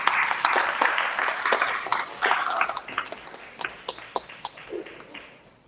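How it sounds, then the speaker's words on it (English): Audience applause at a book conference in Manhattan, a dense burst of clapping that swells, holds for a few seconds, then thins into scattered claps and fades. "Again, a round of applause for Mr."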